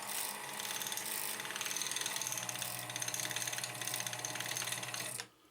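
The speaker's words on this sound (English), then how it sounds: "Start the machine to wind the bobbin." A vintage Elna Lotus portable sewing machine running to wind a bobbin, a steady, close whirring hum with a fine mechanical chatter for about five seconds before it stops.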